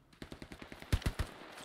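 Rapid automatic gunfire from the Hell Let Loose video game, a fast steady burst of shots with a few louder, heavier cracks in the middle, heard close and alone.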